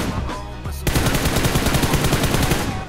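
Automatic gunfire in a mobile battle royale shooter erupts from behind, a dense rapid burst after a brief lull that keeps rattling loudly and steadily for a couple of seconds.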